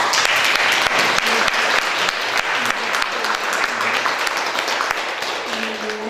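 Audience at a Slovenian cultural event applauding, a dense burst of clapping hands that runs steadily throughout and thins slightly near the end, with a faint voice murmuring underneath.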